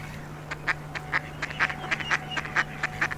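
A male goosander duck gives a run of short, nasal calls, about a dozen evenly spaced croaks heard fairly close and clear over a faint steady background hum, with no voices.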